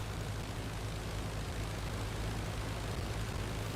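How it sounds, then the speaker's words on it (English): SPAD biplane engine in the World War I flight game Flying Circus, a loud continuous propeller drone with a steady low rumble and broad rushing noise, unbroken and close. "Is it just me or do I hear a spad?"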